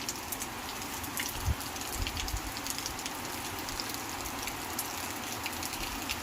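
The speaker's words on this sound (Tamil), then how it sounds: "இன்னும் பெஞ்சிட்டே தான் இருக்குங்க மழை." Steady rain falls in Tirupattur with no wind or thunder, a dense even hiss of drops with occasional louder patters close by, continuing unbroken throughout.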